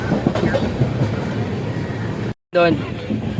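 A passenger train rolling into Ahmedabad junction, its loud, continuous rumble and clatter heard from on board, cut by a brief dropout before resuming. Voices can be heard faintly mixed into the noise.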